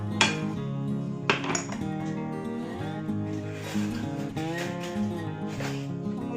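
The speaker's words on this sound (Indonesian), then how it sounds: "kemudian kita aduk." A utensil stirs seasoned catfish preparation in a metal pan, producing soft repeated scrapes and light clinks at close range, fairly quiet and steady.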